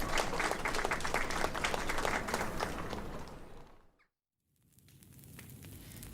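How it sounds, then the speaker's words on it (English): A crowd of villagers claps appreciatively in a dense, steady burst of applause that fades into a brief silence, then rises again more softly. "They all clap appreciatively."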